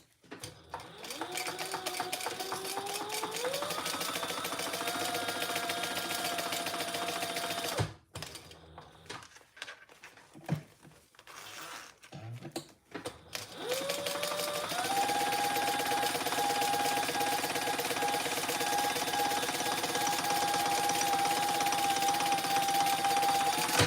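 Sewing machine joining fabric pieces along the pattern seam allowance, a long steady hum that speeds up and slows, stopping briefly midway with fabric handling before running again, near and continuous.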